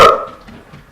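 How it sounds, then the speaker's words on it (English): One of several household dogs gives a single sharp, loud bark up close that quickly fades into quiet room noise. "we have a lot of dogs. They want to let us know that they want attention."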